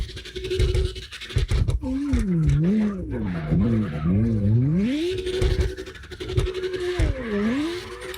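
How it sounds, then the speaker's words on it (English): A Lexus LFA drifts in the CarX Drift Racing Online game, its engine note rising and falling in wavering sweeps over loud, continuous tire scrubbing and sliding, with brief scraping bursts at the start. "They were sliding that LFA real nice."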